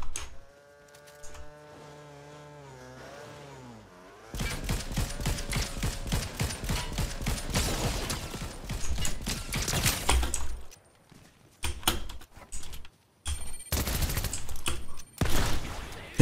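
A gun in the video game Fortnite fires a full magazine in long rapid bursts of close, loud shots, split by short pauses and mechanical reload clicks, after a quieter stretch of tonal game sounds.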